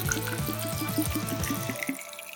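Water is poured into a drink shaker, a steady trickling fill with small rhythmic gurgles, close and fairly quiet, with no talk.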